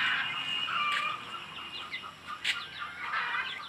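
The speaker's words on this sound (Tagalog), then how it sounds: "So, meron kami mga manok nilagay dito." Chickens in a backyard pen cluck and chirp in a soft, continuous chorus, a few sharper calls poking through a steady outdoor background.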